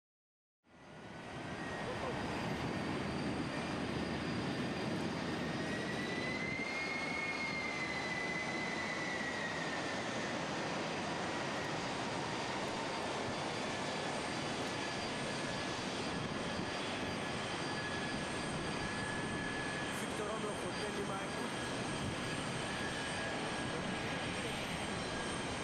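Airliner on a visual step-down approach to Kai Tak Airport in Hong Kong, a loud continuous engine roar and whine that stays steady throughout, with no voices.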